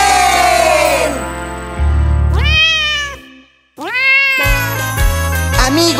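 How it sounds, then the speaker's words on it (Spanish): Cartoon cat meowing on a children's farm-animal song, with several loud, drawn-out meows separated by short pauses over musical accompaniment. "El gato hace miau."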